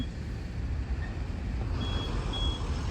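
Repeated electronic reversing beeps ring out from lorries at a canal construction site, steady pulses over a low rumble of heavy truck engines and wind, with no talking.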